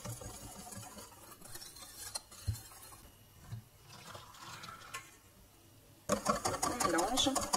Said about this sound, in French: Mélangez directement au fouet.